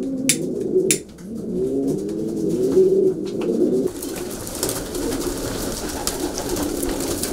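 Racing pigeons coo in a loft, with layered, overlapping calls close by during the first four seconds before they give way to a softer, steady wash of background noise.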